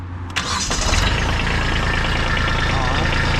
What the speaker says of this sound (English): now we're just gonna crank the tractor up and check anything for leaks